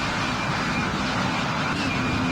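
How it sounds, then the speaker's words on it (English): Airliner in flight in the Roblox game PTFS, a steady broadband engine drone with a low hum, constant and fairly loud for a couple of seconds. "Bliss Airways was taking flight, head for Grindavik"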